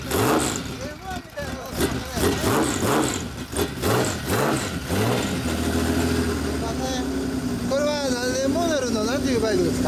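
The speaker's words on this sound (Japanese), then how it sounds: "すみません、エンジン音聞かせてもらえますか？" A 1979 Honda CBX1000 motorcycle with a megaphone-type exhaust revs up and down in repeated loud surges, then settles into a steady idle, while people talk nearby.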